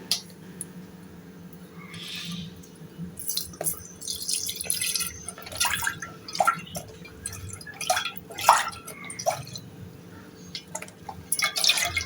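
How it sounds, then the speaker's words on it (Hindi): Milk being poured into a pan for kheer, heard as a soft, irregular trickle with scattered drips and splashes that grow busier midway, fairly quiet and without talking. "पैन ले लिया, अब इसमें मैं दूध ऐड करती हूँ।"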